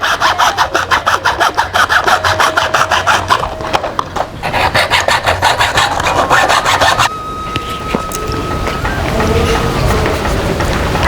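Bamboo being cut and sawn by hand while a flute is made, a steady rhythmic rasping of strokes close by, shifting to longer smoother passes partway through, with no talking.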